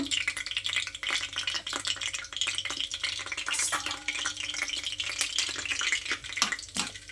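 Mustard seeds and curry leaves fry in hot oil for a mango chutney, a steady crackling sizzle with scattered pops and faint stirring rattles, close and moderately quiet, with no talking.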